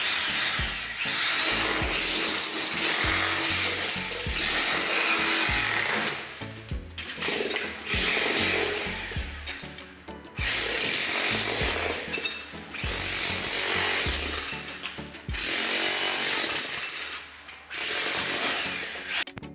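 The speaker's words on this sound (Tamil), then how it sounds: "இப்போ வந்து நம்ம ட்ரில் போட்டு பார்க்கலாம் ஸோ எப்படி உடைக்குது அப்படின்னு" A Foster hammer drill breaks into a hard surface, making loud continuous rattling hammering in long bursts with short pauses between them.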